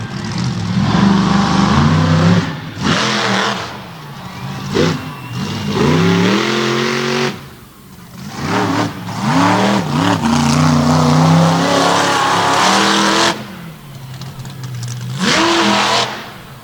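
Toxic 2.0 monster truck engine revving hard through a run at an All Star Championship event, loud roaring bursts that rise and drop repeatedly with brief lulls between throttle blips.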